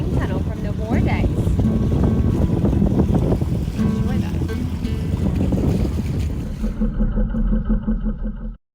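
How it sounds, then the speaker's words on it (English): Strong wind roars and buffets the microphone on a sailboat rounding a peninsula off the Albanian coast near Himarë and Vlorë, a loud continuous rush that cuts off abruptly at the end. "As we round the peninsula, the wind starts to pick up."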